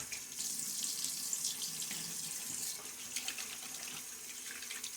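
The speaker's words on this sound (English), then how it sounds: "Then a little splash of water." Running water pours steadily from a tap into a sink, a continuous close splashing hiss with slight fluctuations and no talking.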